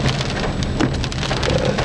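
Heavy rain pours down in a dense, continuous hiss with close pattering drops, loud and steady and with no voices.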